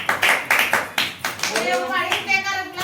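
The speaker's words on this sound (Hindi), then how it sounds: "तालियां" Several quick rounds of hand clapping ring out close and loud in short bursts, with voices chattering in between during preparations for an engagement gathering.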